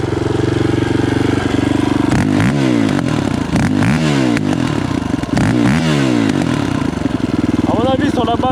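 A loud quad bike engine held near, revving up and down in repeated swells with rough, popping backfire crackles through the blips, running continuously the whole time.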